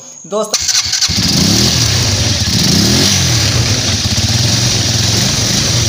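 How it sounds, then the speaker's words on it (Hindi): A 150cc New Asia Rushka loader motorcycle engine cranks briefly, catches, and settles into a loud, steady putter that keeps running close by. "हमारी बाइक यानी कि जो हमारा लोडर का है स्टार्ट हो चुका"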